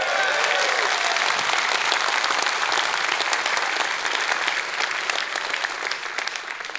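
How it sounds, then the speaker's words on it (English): An audience at EVE Fanfest, a gaming convention, claps in a dense burst of applause that stays steady and loud, then thins slightly toward the end. "some shy clapping"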